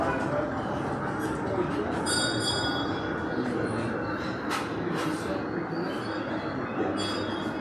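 Model train running on a club layout, a light steady rolling rumble with faint wheel squeal and small clinks, fairly close, under a voice.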